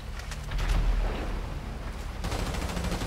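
Muffled, dense gunfire from a Grand Theft Auto 5 Online shootout rumbles throughout, with a heavier burst early on and a noisy wash of shots continuing steadily.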